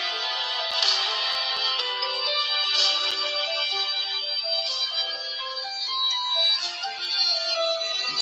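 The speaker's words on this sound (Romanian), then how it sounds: "Sună telefonul." A phone rings with a steady, melodic electronic ringtone that repeats in regular bursts for several seconds, fairly loud and close, with no one speaking.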